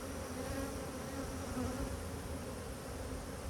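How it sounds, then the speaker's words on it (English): Agitated queenless honeybees fill the air with a dense, unbroken buzz, loud and near throughout. "these bees might be acting aggressive because they are queenless"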